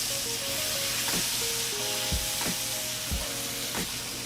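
Bacon and onion frying in a pan, a steady close sizzle with periodic scraping stirs and clunks of a utensil against the pan.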